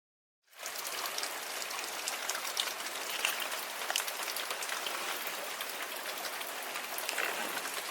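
Heavy rain pours steadily and loudly, a dense continuous hiss of drops striking surfaces, starting abruptly after a brief silence and holding constant without any voices.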